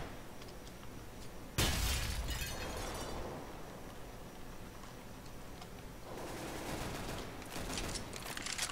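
Gunshots in CS:GO during an ESEA League match: a loud sudden crack followed by a stretch of rapid sustained firing and clatter, with another heavy burst of shots near the end.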